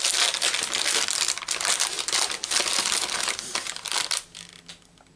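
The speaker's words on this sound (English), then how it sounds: "let me just get a wet wipe out" A wet wipe pulled from its plastic packet during a papercraft stamping session, heard as close, continuous crinkling and rustling of plastic that fades out toward the end.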